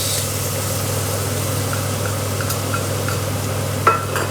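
A generous amount of butter with aromatics like red onion, carrot and leek in a mussel pan for classic moules marinières, giving a steady, close sizzle under a low hum, with a single clack near the end.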